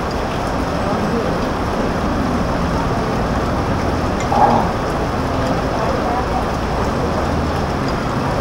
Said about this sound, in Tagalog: Grabe, maghapong ulan dito ah.